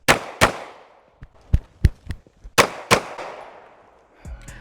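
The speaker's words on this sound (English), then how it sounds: "shoot a couple rounds, and then I'm gonna come back over to the left side." A Glock pistol fires a string of about nine shots at irregular spacing, loud and close, with several cracks in quick pairs and ringing decay between them.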